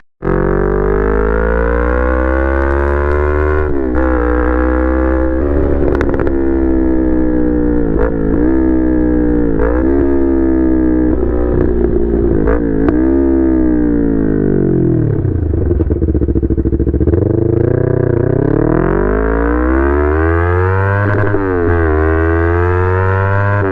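A Yamaha MT-03 motorcycle engine runs loud and close while warming up, its tone rising and falling in pitch with throttle blips over a steady rumble, no talking.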